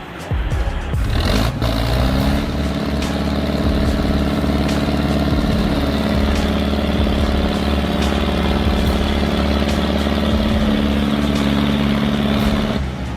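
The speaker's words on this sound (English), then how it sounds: "The MTZ-82 engine runs like a dream." Heavy MTZ-82 tractor diesel engine running steadily and loud throughout, with a deep continuous drone and some rising revs near the start.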